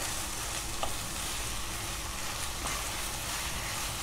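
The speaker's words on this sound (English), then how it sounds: "Now I will be adding sugar to it and saute it for another 1 minute" Beetroot halwa with added sugar sizzles steadily in a pan as it is sautéed, giving a continuous, even frying hiss with no voices.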